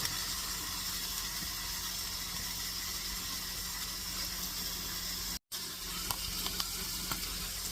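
Salisbury steak patties sear in a hot pan with a steady, close, continuous sizzle broken by a brief dropout and a few sharper crackles toward the end.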